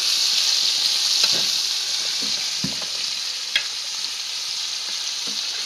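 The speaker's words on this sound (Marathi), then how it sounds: "चांगली भाजून द्यायला लागते" Chigal leafy greens frying in a pan, a loud continuous hissing sizzle with occasional soft stirring scrapes.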